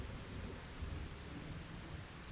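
Steady, dense rain pours down without a break, with a low rumble of thunder rolling underneath the hiss.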